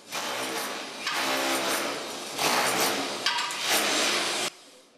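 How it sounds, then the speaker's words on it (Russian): Renovation work in a hospital's ENT ward, with loud, sustained broadband construction noise in several long bursts, like power tools or demolition, running close by with short pauses between them. "Шумно и пыльно, но все это временно. В лор-отделении терапевтического корпуса идет ремонт."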